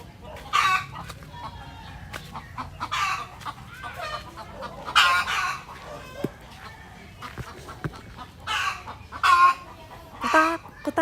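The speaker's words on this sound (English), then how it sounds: "The chickens are so noisy." Noisy backyard chickens at a rural home in Tarlac, Philippines, cluck and squawk in repeated bursts while a rooster crows, fairly close, with low background hum between calls.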